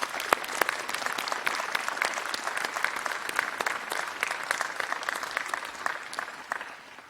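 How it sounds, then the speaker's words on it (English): Commencement crowd at a graduate school ceremony gives a speaker another round of applause, a dense, lively burst of many clapping hands that holds steady, then thins and fades at the end. "let's give her another round of applause"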